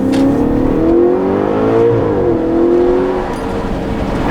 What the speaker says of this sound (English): It's not very often you hear something revving this high